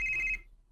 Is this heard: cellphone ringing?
yes